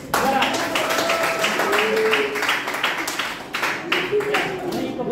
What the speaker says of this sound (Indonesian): Tepuk tangan untuk Zara.